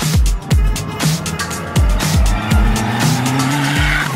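A turbocharged 1988 Mitsubishi Pajero Proto rally car revs hard and close, its engine note rising and dropping through a rapid series of gear changes over a few seconds.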